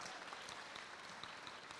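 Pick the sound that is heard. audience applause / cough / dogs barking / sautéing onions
audience applause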